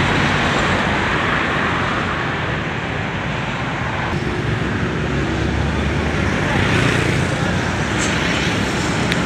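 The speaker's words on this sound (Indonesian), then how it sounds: "Satu kaltex diesel teman-teman, melintas teman-teman." A Caltex diesel tanker truck passes on the Pantura highway amid dense, loud roadway noise and engine rumble, with passing traffic throughout.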